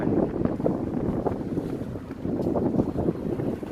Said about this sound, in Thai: ลมนี่พัดแห้งนะตอนนี้เนาะ ลมพัดแห้งไป